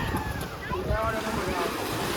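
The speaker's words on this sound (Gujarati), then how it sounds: "આ સ્પીડ બોટ છે." A speed boat's engine drones over the sea off Shivrajpur Beach near Dwarka, Gujarat, amid steady wind rush and splashing water, a continuous roar without pause.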